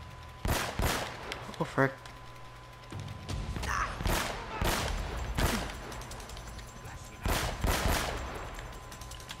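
Sniper gunfire in Uncharted: Drake's Fortune rings out as loud, sharp shots in uneven bursts through a combat scene, with someone briefly speaking between them.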